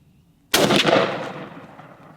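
A single loud Beretta SA20 shotgun blast firing a Nitro Company .562 LW shell outdoors, a sharp sudden report followed by a long rolling echo that fades over about a second and a half, with no voices.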